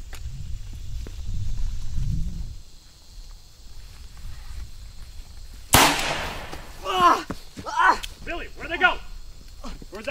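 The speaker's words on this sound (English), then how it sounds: "I damn shot myself in the leg." A single sharp gunshot cracks nearby after a stretch of low rumbling, followed at once by someone talking and shouting.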